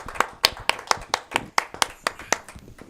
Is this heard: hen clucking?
no